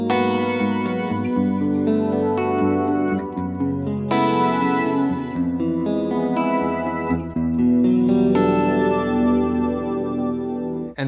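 Sustained chords from a Strat-style electric guitar washed in delay and chorus, forming a shimmering synth-like pad with repeating echoes, steady and loud, no voices.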